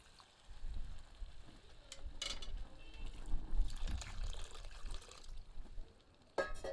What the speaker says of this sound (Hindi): अब इसमें आधा लीटर के लगभग पानी सम्मिलित करते हैं।